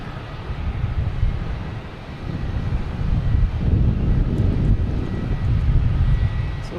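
Lufthansa Boeing 747 jet airliner near Boston Logan, a steady low rumbling roar that swells slightly partway through, heard from a distance with some wind buffeting and no talk.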